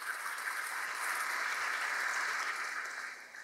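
An audience claps loudly and continuously at a Rotary Club Belthangady scholarship distribution event, a dense, even roar of many hands that swells slightly midway and tapers near the end.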